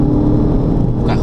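Modified Audi TT 8S TDI, its diesel engine muffled by a particulate filter, holds a steady close revving drone at the rev limiter cut for about a second, with a brief rise near the end.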